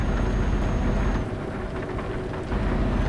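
Euro Truck Simulator 2 storm weather plays as a loud, dense roar of heavy rain with rumbling thunder. It fills the whole stretch, with a slight dip in the middle.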